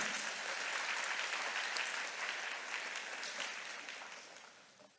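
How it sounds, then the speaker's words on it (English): Graduates at a university business and economics congregation get applause from the audience, a dense, even crowd clapping that holds steady and then gradually fades toward the end. "Please give them a big round of applause."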